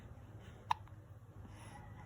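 A single loud, sharp hiccup from a baby at bath time, up close against a low steady background hum, with no talking.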